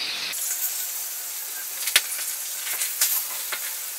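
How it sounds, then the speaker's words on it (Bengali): Small pabda fish fry in hot oil in a pan and are turned over, a constant close hiss of frying with a few sharp clicks and scrapes from the utensil. "মাছের এক সাইডটা ভাজা হয়ে গেছে, সব মাছগুলোকে আমি এবার একটু উল্টে পাল্টে দিয়ে ভেজে নেব ভালো করে।"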